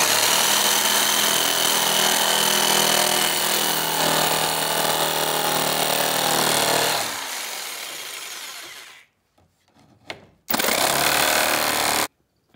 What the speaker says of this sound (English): I tried using a jigsaw just to save from having to use the giant radial arm saw